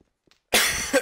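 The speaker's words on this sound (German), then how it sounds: "Sorry für das Husten." A single close, loud cough bursts out suddenly after near silence and fades within half a second.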